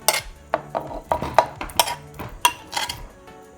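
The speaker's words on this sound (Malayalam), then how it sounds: "നമുക്ക് അതിന് തന്നെ മാങ്ങ ഇടാൻ ചട്ടിയിലേക്ക്." Pieces of mango drop one after another into a clay cooking pot, giving a series of irregular knocks and clatters, each short and near, spaced about a fraction of a second apart.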